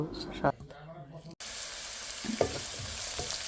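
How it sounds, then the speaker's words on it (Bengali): Chopped onion hits hot mustard oil in a wok, a steady broad sizzle and crackle beginning after a brief pause with faint clatter before it, continuing close and even, with light stirring knocks. "কড়াইতে তেল দিয়েছে সরিষার তেল এখন পেঁয়াজটা দিয়ে দিলাম"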